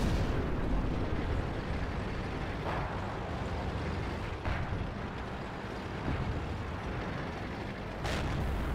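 A tank gun fires in the World of Tanks game, with low booming blasts rolling under a constant loud engine rumble and faint crackling bursts that fade into the background. No one speaks.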